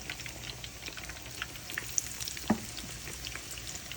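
Potatoes and beguni eggplant fritters in batter frying in hot oil, a steady close crackling sizzle with scattered pops and one brief clink.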